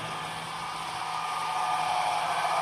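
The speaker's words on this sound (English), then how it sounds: "So the locomotive is going up the hill at this point." An Athearn model train locomotive labours up a hill with a steady, close whirring drone and a low hum, growing slightly louder near the end.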